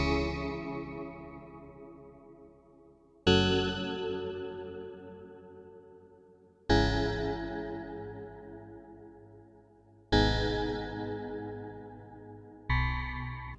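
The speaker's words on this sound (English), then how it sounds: "So the chord progression I played in sounds like this." Dark synth chords played on a MIDI keyboard for a drill beat, five sustained chords each struck sharply and slowly decaying, roughly every three seconds, loud and unaccompanied by talk.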